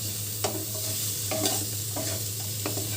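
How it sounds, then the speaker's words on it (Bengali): Onion and chicken fry with a soft, steady sizzle and several brief scrapes of a spatula stirring the pan, over a low background hum. "একটু পেঁয়াজটাই মাংসটার সাথে ভাজা ভাজা করে নিই"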